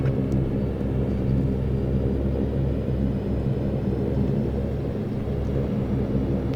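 In X-Plane 11, a Saab 340 brakes on the runway after landing, giving a steady low rumble of engines and rolling wheels that holds even and continuous with no voices.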